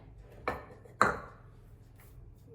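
Two sharp knife chops land about half a second apart on a board, close and crisp, followed by quiet.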